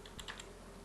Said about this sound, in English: So I'll click here, text, and just type here.